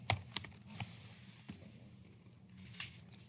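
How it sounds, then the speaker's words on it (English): Text being typed on a computer keyboard, heard as a few scattered faint key clicks and taps over a quiet background with no speech. "I'm just typing text"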